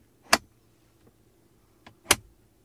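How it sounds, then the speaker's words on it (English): The center armrest lid of a Mazda CX-60 clicks: two sharp mechanical clicks about two seconds apart, close and crisp, with a faint softer click just before the second one in a quiet car interior. "the middle armrest here opens really nice, and listen to the clicking sound"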